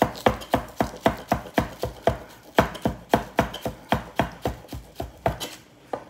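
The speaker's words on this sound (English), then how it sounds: "we're just gonna do real fine chop on this" A small knife finely chopping food for jalapeno popper sliders, with a steady rapid run of about twenty close, crisp strikes that slow slightly toward the end.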